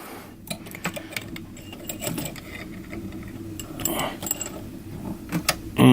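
A knife blade is drawn along the stone of a Lansky standard sharpening system held in a vise, giving repeated scraping strokes with small metallic clicks, close up and fairly quiet, with no voices.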